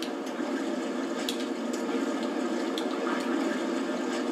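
Rushing waterfall water in the Zelda Breath of the Wild game while swimming, a continuous dense hiss with a few soft splashy accents, steady and fairly loud with no talk.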